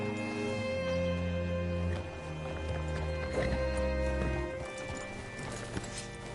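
Steady clip-clop of horse hooves in the video game Red Dead Redemption 2 over a sustained musical backdrop, with a brief whinny-like accent near the end.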